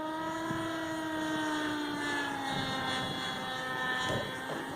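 A Kyosho Cal 30 RC helicopter flies nearby in wind with a steady, sustained rotor and engine whine whose pitch shifts slightly as it maneuvers, with no talking.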